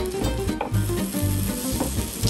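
Six eggs fry in a small frying pan for a homemade omurice, giving a steady close sizzle with soft crackles and a few brief spatters, with no talking.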